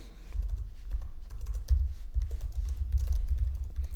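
Keys clack on a computer keyboard in quick, uneven bursts of typing, close and fairly loud, with no voices over it.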